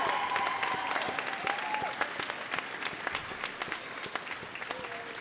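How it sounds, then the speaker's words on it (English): Crowd applause in a gym for a boys' prep basketball team's seniors after a championship game, steady clapping with sneaker squeaks and a few distant voices underneath. "Give them a round of applause."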